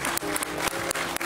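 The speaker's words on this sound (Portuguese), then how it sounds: "E agora vamos receber com um grande aplauso a tia Marta." Studio audience applause on a Portuguese afternoon TV talk show: steady, dense clapping from a crowd, close and loud, filling the whole short moment with a few sharper bursts.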